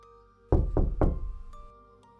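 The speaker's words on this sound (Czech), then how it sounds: "myslím, že jsem právě slyšela zaklepání na dveře" Three heavy, close knocks on a door in quick succession, followed by a couple of fainter taps in a quiet room.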